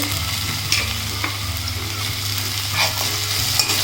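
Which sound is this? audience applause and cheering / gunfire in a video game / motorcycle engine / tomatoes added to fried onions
tomatoes added to fried onions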